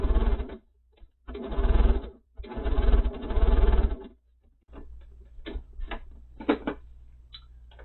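A sewing machine stitches large quilt half-square triangles in three short, loud runs of rapid mechanical stitching, followed by a low hum and scattered softer clicks.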